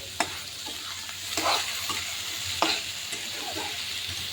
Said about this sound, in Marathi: पाच मिनिट गाजर व कांदा परतून घेतल्यानंतर शिमला मिरच घातली थोडेसे परतून घेतल्यानंतर